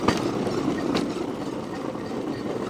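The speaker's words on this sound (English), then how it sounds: "we're slowing down now because there's another train coming the other direction" Another train approaching on the same line from the opposite direction gives a steady low rumble with a few faint clicks, heard from aboard a train that has slowed down.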